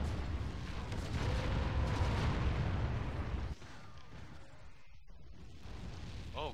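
Mortar turret blasts in the video game Tribes Aerial Assault, a dense booming barrage that cuts off abruptly partway through, leaving quieter rumbling and scattered pops behind.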